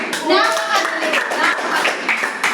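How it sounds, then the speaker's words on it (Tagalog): A classroom of children claps for a classmate, a brisk, close burst of many hands patting unevenly, mixed with children's voices talking over it. "Bigyan ng magaling na palakpak."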